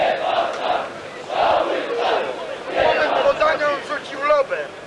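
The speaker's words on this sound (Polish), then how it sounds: "Słyszą Państwo nawet w tym momencie głos trenera Wisły Wojciecha Łazarka, który krzyczał z ławki, że nie było spalonego." The Wisła Kraków coach, Wojciech Łazarek, yells from the bench at a stadium match against Widzew Łódź, loud hoarse shouted bursts in several pulses over a roaring crowd.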